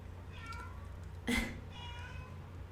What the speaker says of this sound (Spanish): Ahí está mi gato diciendo miau, que hola, que cómo están.